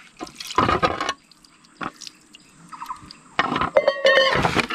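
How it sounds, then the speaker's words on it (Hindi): Sandpaper dipped and sloshed in water for wet sanding carbon fiber paint, with close splashy bursts and drips separated by quiet gaps. "इस पेपर को ना पानी में डुबा के इसको गीला करके"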